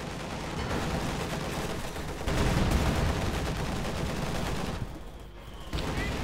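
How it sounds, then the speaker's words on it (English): Continuous battle gunfire and explosions from the real-time strategy game Company of Heroes 2, including field gun fire, forming a dense, loud rattle that surges midway, with no talking. "There you go, field gun fire"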